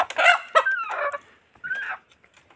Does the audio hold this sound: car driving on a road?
no